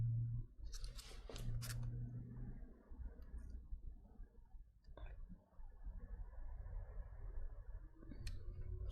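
Scissors or a blade cutting window tint film for a hatchback rear window, heard close up as a few crisp snips and clicks over a low, steady background rumble.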